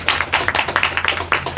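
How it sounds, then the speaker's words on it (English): A small audience at a Veterans Day program claps in a quick, sparse run of separate, sharp hand claps at close range. "It's okay to clap."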